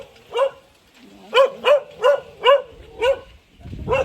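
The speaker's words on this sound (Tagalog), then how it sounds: "May aso, may aso." A dog barks repeatedly nearby, about seven loud, sharp barks in a quick uneven rhythm, with a brief rustle at the end.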